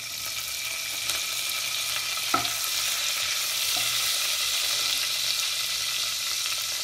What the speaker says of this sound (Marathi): थोडीशी कोथिंबीर फोडणीला टाकत आहोत।